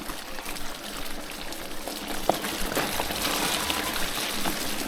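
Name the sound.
small stream flowing under a bridge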